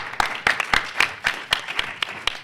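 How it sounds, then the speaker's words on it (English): A short run of hand clapping welcomes a podcast guest, roughly ten sharp, evenly spaced claps close to the microphone, with no speech over them. "I've been applauding both the top and bottom of the introductions."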